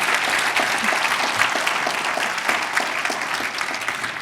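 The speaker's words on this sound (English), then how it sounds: "let's give her a big round of applause for a great presentation" Dense, even applause from an audience after a product marketing presentation, sustained clapping at a steady level for several seconds with no talk over it.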